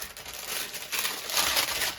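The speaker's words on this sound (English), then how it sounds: "I know how loud this parchment paper is on video." Parchment paper crinkles and rustles steadily as it is handled during a paper-craft journal project, a close, continuous crackling texture that swells slightly louder toward the end, with no voices.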